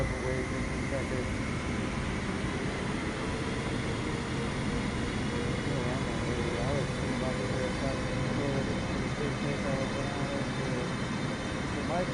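A Boeing 747-800 in Flight Simulator 2024 gives off a steady, droning jet engine roar with an unbroken whine over a low rumble, running at a constant level throughout.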